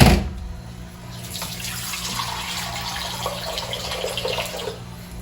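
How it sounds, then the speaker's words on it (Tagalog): Water pours into a pot of sinigang for several seconds as a steady, close splashing rush that starts after a brief bump and thins out toward the end. "Dagdagan natin ng tubig ang ating sinigang."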